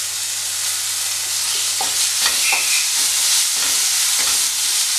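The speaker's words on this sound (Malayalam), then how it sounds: "ഈ തക്കാളി നല്ലതുപോലെ ഒന്ന് വേവിച്ചെടുക്കണം." Chopped tomato sizzling and frying in a pan for dal fry, a steady broadband sizzle with occasional stirring scrapes and small pops, close and continuous without talk.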